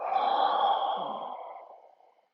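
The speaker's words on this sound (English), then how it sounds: "Let's do a nice big inhale. Yeah, and exhale." A big, slow exhale during a breathing warm-up exercise, a single breathy sigh that starts full and close and gradually fades out over about two seconds.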